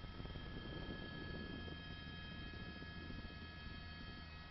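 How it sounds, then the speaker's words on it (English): A distant LAPD police helicopter drones faintly and steadily in the background over Los Angeles, a low continuous rotor hum without any talk. "that's an LAPD helicopter lighting it up"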